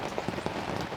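Pouring rain falls in the woods during an Ohio bowhunt, a dense, steady hiss with scattered soft drop patters, close and continuous, with no voices.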